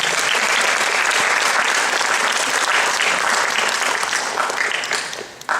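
A lecture audience claps in a dense, steady burst of applause that fills the room, then thins out and fades near the end.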